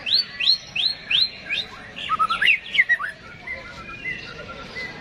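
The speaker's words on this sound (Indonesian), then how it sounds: "Penawaran murai batu ini" An oriental magpie-robin (murai batu) sings a rapid series of bright, rising whistled notes, then a tumbling warbled phrase, followed by softer chirps; fairly close with faint background noise.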